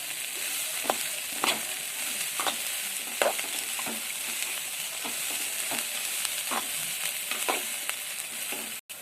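Mukni kalu stirred and fried with oil and masala in a pan, a steady sizzle broken by repeated scraping stirs at a regular rhythm, close and fairly loud, with no talk.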